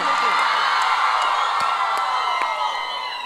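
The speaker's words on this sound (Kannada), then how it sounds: "ಜೋರಾಗಿ ಚಪ್ಪಾಳೆ ಬರಬೇಕು" An audience at a dance fest in Thirthahalli cheers loudly with whoops and shouts over a continuous wash of applause, a dense crowd roar that holds steady throughout.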